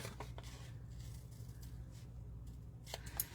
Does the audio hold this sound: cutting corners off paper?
yes